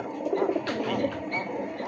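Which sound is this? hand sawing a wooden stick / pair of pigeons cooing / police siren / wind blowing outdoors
pair of pigeons cooing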